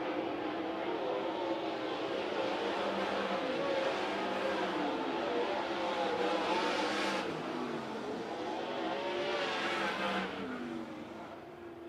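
Winged 360 sprint cars at Kings Speedway race toward the checkered flag, their engines rising and falling in howling revs as they pass through the corners, loud and continuous before easing off near the end.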